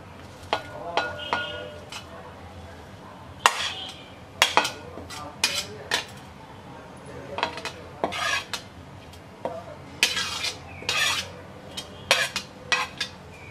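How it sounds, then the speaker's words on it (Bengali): Vegetables tipped into a pan for a Bengali eggplant and egg dish, giving scattered clinks, scrapes and stirring rattles of utensil on metal, loud bursts spread irregularly throughout with no talk. "এবার এই সব সবজিগুলো দিয়ে দিচ্ছি"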